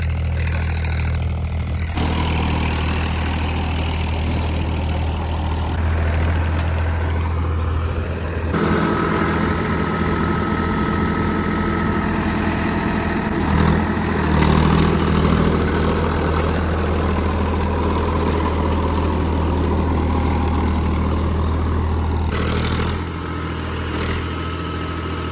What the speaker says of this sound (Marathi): ड्युल क्लच ट्रॅक्टर आहे, पॉवर ट्रॅक. आवाज लय कडक आहे बर का ट्रॅक्टरचा